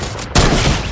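A sniper rifle shot in the video game Fortnite: one loud, sharp blast partway through, followed by a rumbling tail.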